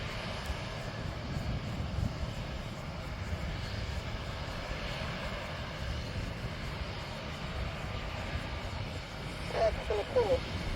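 Steady engine roar of an Embraer executive jet at an airport, a continuous broadband rumble heard at moderate distance, with a voice talking over it and slight wind buffeting.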